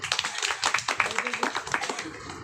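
Quick rhythmic clapping from an audience at an RCM direct-selling meeting, a series of sharp close hand claps over about two seconds, with some voices in the background.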